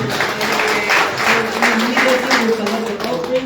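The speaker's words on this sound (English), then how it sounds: "जोरदार तालियां।" Loud applause from the congregation at a church gathering celebrating a parish inauguration in Rawang, Malaysia, sustained clapping with voices and talk heard over it throughout.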